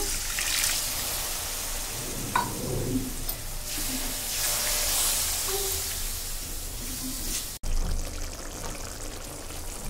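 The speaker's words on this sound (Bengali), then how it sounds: "পানি দিয়ে দিচ্ছি একটু।" A little water poured into a pan of frying garlic paste, coriander, chilli and turmeric powders with salt, giving a hissing, bubbling wash of sound with birds cooing faintly in the background.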